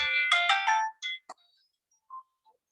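A phone ringtone plays a bright, rising electronic melody of several notes, followed by a few short chirps and quieter tones that fade out in an otherwise quiet room.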